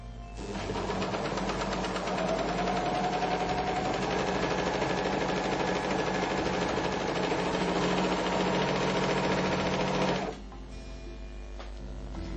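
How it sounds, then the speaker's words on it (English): A Merrylock MK-3000CL overlock machine gathers a fabric edge with a fast, steady mechanical whir and dense ticking for about ten seconds, then stops abruptly, leaving a faint hum. "Turn the stitch length dial to 4. As you stitch, allow the fabric to just feed through."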